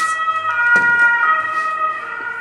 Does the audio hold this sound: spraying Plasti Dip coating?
no